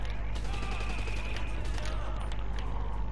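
Continuous rapid gunfire and game noise from a Franklin mission in GTA 5, dense and loud throughout the clip with no clear pauses.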